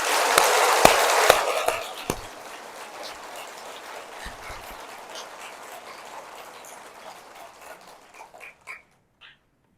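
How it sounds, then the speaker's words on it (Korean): A church congregation claps at a Catholic retreat, a dense burst of applause with a few sharp claps that thins into scattered hand claps and fades out. "변화되시라고 박수 한번 올려드릴게요."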